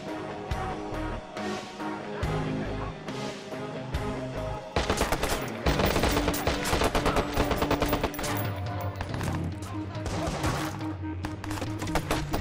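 Sustained automatic gunfire in the PS3 game Watch Dogs, rapid machine-gun bursts and fusillades that swell louder midway, continuous and close with layered music underneath.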